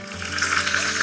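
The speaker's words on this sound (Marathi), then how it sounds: "हे बघा मस्त तडका आहे, येतोय आवाज, बघू शकता की कसा आवाज येतोय." A Maharashtrian-style dal tempering of chili and curry leaves dropped into hot oil. It sizzles loud and close in a bright, crackling burst that swells after a moment, with no talk.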